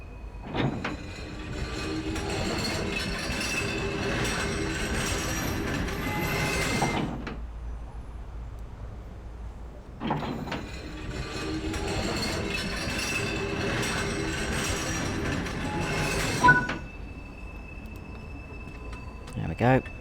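A steam locomotive in Train Sim World 5 driving from Crewe to Acton Bridge, two long spells of rumbling, clanking cab and rail noise split by a quieter gap, close and fairly loud, with no speech.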